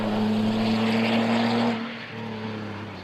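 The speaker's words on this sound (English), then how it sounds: "The car shoots out of the pit with new tires." A race car at the Nürburgring 24 Hours accelerating out of the pit on new tires, a loud steady engine roar with a strong tonal drone that drops in pitch and level partway through.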